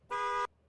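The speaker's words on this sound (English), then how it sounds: "Please play the car honk noise." A single car horn honk, one short, loud, steady tone lasting under half a second and then cut off cleanly.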